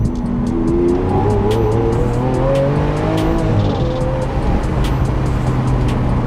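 Lamborghini with a 6.5-liter V12 roaring loudly and continuously, its engine note climbing in pitch through the revs as it shifts, with some tire noise, heard close with no voices.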